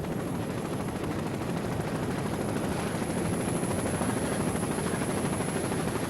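Offshore racing powerboats, including the PTM Express passing a smaller boat during a 1988 race, make a loud, continuous engine roar that stays steady and close for the whole stretch, with no voices over it.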